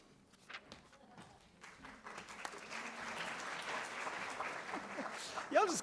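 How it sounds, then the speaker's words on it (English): A church congregation applauds in a rising wave of clapping that grows steadily louder, with scattered voices mixed in. "Y'all just clap for announcements."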